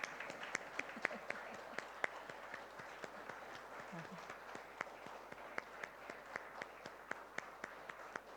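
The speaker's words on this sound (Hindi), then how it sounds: "और जोरदार तालियां" Steady rhythmic clapping from a modest crowd at a foundation day ceremony continues for several seconds, each clap sharp and distinct over a low background hum.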